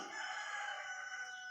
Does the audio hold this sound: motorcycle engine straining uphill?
no